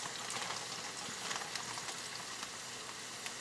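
Hamburger meat and onions fry in a pan with a faint, steady crackling sizzle and small scattered pops throughout, and no one speaks.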